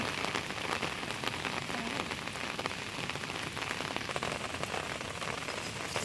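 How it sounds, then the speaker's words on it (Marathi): Heavy rain pours steadily onto a surface, a dense, constant hiss with scattered close drops pattering throughout. "पाऊस जोराचा आहे"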